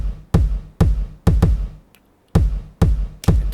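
A completely dry kick drum from Logic Pro's standard drum kit, played in a pop track remake: eight punchy, deep thumps in an uneven rhythm with a short pause midway, loud and close with no reverb tail.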